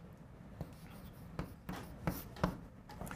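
Handwriting in the middle of a trigonometric derivatives lesson, with faint pen strokes and scratches on a surface, soft and intermittent against a quiet background.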